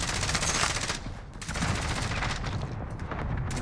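Automatic gunfire in Call of Duty Warzone with a QBZ rifle in the fight, loud, rapid bursts of shots close by, a brief lull around the middle, then sustained firing again.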